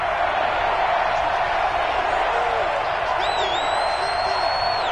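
A football stadium crowd roars in a steady, dense wash of cheering throughout, with whistles rising near the end and a commentator's voice under the noise.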